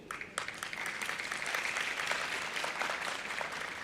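A graduation ceremony audience at Unisa claps for the graduates, dense sustained applause from a large crowd that starts with a few sharp claps and swells into an even roar of hands.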